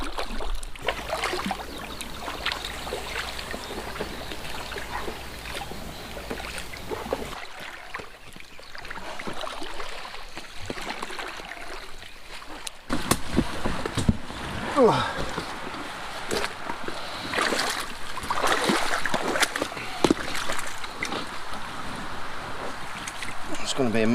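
Packraft paddling on a wide, clear stretch of the River Waveney on a hot day, with soft water swishes and splashes from the paddle strokes over a light outdoor background, and someone talking at times.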